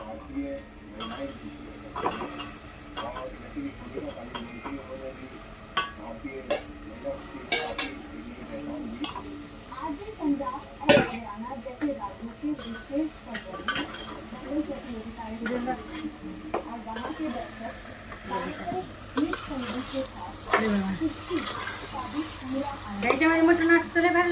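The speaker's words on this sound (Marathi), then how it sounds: "आपण इकडं मसाला परतलेला आहे परतून घ्यायला लागलो" Masala being sautéed in a pan makes a soft sizzle with repeated stirring scrapes and clinks of utensil on metal, while voices talk over it throughout.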